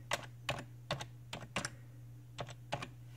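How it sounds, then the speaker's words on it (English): A password being typed on a computer keyboard: about eight separate, unhurried key taps with uneven gaps, close and clear over a quiet room with a low steady hum. "I would just type in"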